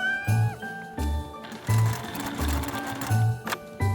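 A sewing machine stitches fabric backed with fusible interfacing in short repeated bursts, its motor whirring up and stopping several times, close and clear with no talking.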